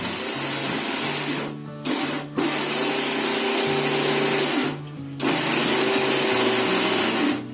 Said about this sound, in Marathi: आता हे आपल्याला मिक्सरला आहे ना थोडं, म्हणजे आता मी दाखवते तुम्हाला, थोडंसं फिरवायचं बटन, थोडं फिरवत आपल्याला वाटून घ्यायचं.